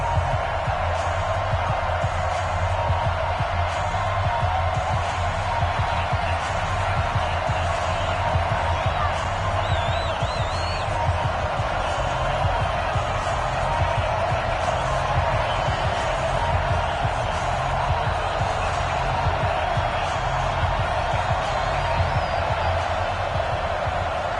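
Video-game stadium crowd cheers at a Dallas Cowboys versus Philadelphia Eagles game on Thanksgiving afternoon, a dense, continuous roar at steady loudness, with a commentator talking over it.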